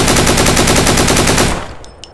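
AK rifle fire in the Deadside game comes as a loud, rapid automatic burst of evenly spaced shots lasting about a second and a half, then stops, leaving a few faint clicks.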